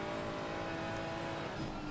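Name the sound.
Porsche race car engine at Monza endurance race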